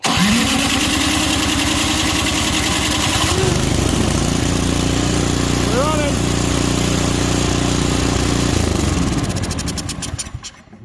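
A small engine starts after the choke and fuel are opened. It cranks, catches and settles into a loud, steady running drone close by, then winds down near the end.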